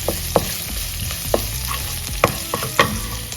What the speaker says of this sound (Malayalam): കുറച്ച് നേരത്തെ മുറിച്ച് വെച്ച ഉള്ളിയിൽ കുറച്ചെടുത്ത് ചേർക്കണം വെറുതെ ഒരു റൈസിനൊരു ഫ്ലേവർ വരാൻ വേണ്ടിയിട്ട് മാത്രം അതുകൂടി ഒന്ന് നമുക്ക് സോട്ട് ചെയ്തെടുക്കാം